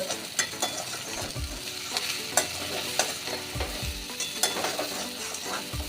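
Soft sizzling in a pan with repeated scraping and stirring clicks at an uneven rhythm as grated coconut is dry-fried and turned; no talking.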